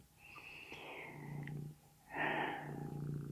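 A cat purrs close by in a low, steady rumble, with a brief pause midway before it swells louder again.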